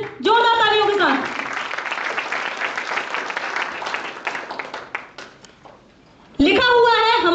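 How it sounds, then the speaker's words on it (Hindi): Enthusiastic audience applause at a Bhagavad Gita training session, a sustained, dense clapping wash of about five seconds between stretches of amplified speech, fading out before talk resumes. "जोरदार तालियों के साथ।"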